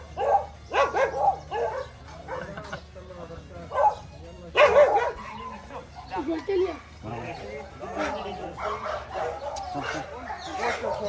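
Dogs at a large kennel collection bark and yip in repeated close bursts, with some whimpering, over a steady low hum and people talking.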